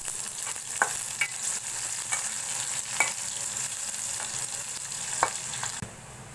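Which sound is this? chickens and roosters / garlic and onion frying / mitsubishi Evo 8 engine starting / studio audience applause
garlic and onion frying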